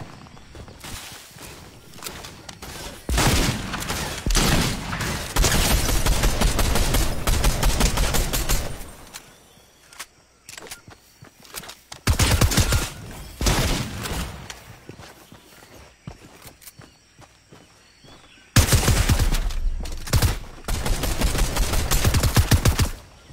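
Rapid automatic gunfire from a shooter video game comes in several long, loud bursts separated by quieter gaps with scattered single shots and movement.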